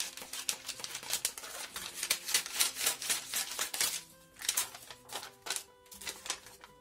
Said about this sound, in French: Donc on peut découper le col.